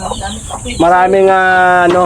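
A chicken clucks close by, followed by a sustained, drawn-out squawk with a strong tonal ring, loud and near.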